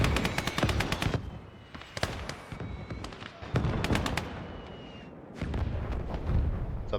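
Grenade blasts and crackling battle fire in the World War II video game Gates of Hell Ostfront, a dense, loud run of sharp bursts and rumbling booms over constant combat noise.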